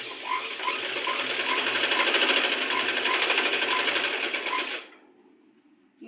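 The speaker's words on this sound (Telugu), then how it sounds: "పాదం ఖర్చుతో ఇంకో స్టిచ్ అనేది వేసేసుకోవాలి." A sewing machine stitches the side joint of a blouse in a fast, steady, close mechanical whir for about five seconds, then stops abruptly, leaving quiet.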